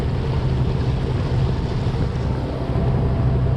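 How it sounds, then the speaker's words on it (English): A sailing boat making way at sea at about 5.5 to 6 knots after rough conditions, giving a steady, close wash of water and wind rumble throughout with no talk. "So we're making way through the water here"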